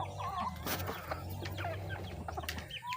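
Native breeder chickens of a large breed on a farm, clucking and chattering close by in a busy mix of overlapping calls, with no talking.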